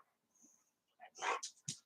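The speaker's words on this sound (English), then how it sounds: "got a little situation over here with my doggie." A small dog lets out soft whimpers and yips up close, brief and broken, with a few short vocal bursts in quick succession.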